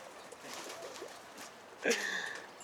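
Pigeons coo softly among a large flock of birds at a coop, with low murmuring calls throughout and one louder, sharper call near the end, fairly close in a quiet setting.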